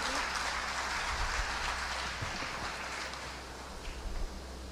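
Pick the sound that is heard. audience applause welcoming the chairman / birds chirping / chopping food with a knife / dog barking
audience applause welcoming the chairman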